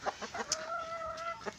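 Rhode Island hens give a few short clucks followed by a drawn-out wavering call, close and moderately loud in a backyard coop.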